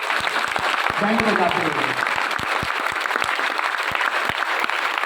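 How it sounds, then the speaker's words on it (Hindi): Dense, steady applause fills a student victory celebration for NEET and JEE results, with a voice speaking briefly over the clapping partway through. "आपकी जोरदार ताली बजनी चाहिए"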